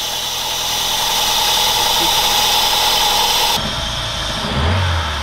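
A car engine runs at a steady idle, loud and close, with a constant rumbling hum that shifts slightly in tone near the end.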